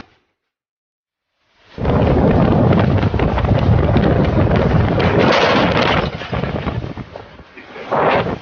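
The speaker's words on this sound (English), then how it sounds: "The massive storm causing up to 8 inches of rainfall in a matter of hours." A massive storm over Oklahoma City dropping heavy flash-flood rain: after a second of silence, a loud, continuous roar of wind and rain with deep rumbling thunder-like swells, steady throughout with a brief dip near the end.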